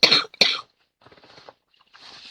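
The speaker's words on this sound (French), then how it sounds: "Fallait bien que je tousse quand même" A person coughs twice in quick succession, close and loud, then breathes and clears the throat more softly in short fading rasps.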